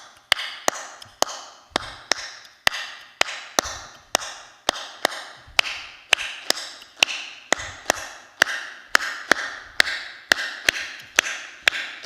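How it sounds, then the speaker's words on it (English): A Creole bambula rhythm from the Senegambian tradition, heard as sharp, evenly spaced percussive taps in a steady, repeating pattern with slight accents, fairly close and alone without speech. "in Louisiana, we call it the bambula because the people that came from the Senegambian River Basin were using this rhythm"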